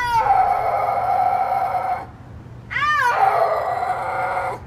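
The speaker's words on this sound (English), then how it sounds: "snow leopards cannot roar, but they can still try, and their attempts are pretty funny." A snow leopard attempts to roar, producing a loud, sustained, strained wailing yowl that breaks off, then rises again in a wavering howl, close and alone.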